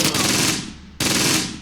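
Two loud bursts of automatic gunfire from Panzer Grenadier infantry in the Close Combat wargame, a rattling volley followed by a second burst after a brief dip.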